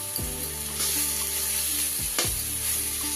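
Spice paste with potatoes frying in a pan for a spicy crab curry, giving a loud, continuous close-up sizzle and crackle that holds steady throughout, with no speech.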